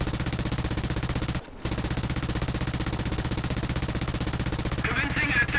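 A Vickers K machine gun fires in War Thunder from a Blenheim Mk IV with incendiary rounds, aimed at a Condor. Rapid, steady automatic fire runs throughout, broken by one short pause early on before resuming.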